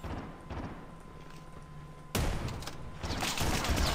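Shotgun fire in a video game set at Alcatraz: a quiet, busy backdrop, then a sharp loud blast with a continuing rumble of shots and impacts.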